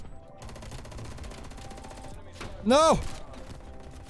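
FFAR rifle firing in a first-person shooter game, a steady rapid automatic burst with a louder crack near the end, while a player speaks briefly.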